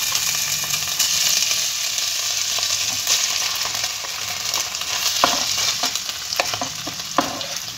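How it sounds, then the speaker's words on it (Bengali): Gobindobhog rice stirred and fried in a pan, a steady close sizzle broken by repeated scraping strokes of the spoon, growing sharper toward the end, with no voices. "এইভাবে আমি গোবিন্দভোগ চালটা ভালোভাবে নেড়ে 2 মিনিট ধরে ভালোভাবে নেড়ে নিয়েছি।"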